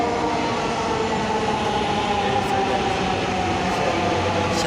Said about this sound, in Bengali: এই যে অনেক লোক অপেক্ষা আছে মেট্রো রেলের জন্য। এই যে সম্ভবত চলে আসছে, এই যে আসছে